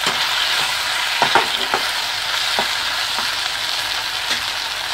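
Tomatoes stirred into sautéed onions with ginger and garlic in a pan, a steady close sizzle of frying with a few soft scraping clicks as a spoon moves the mix.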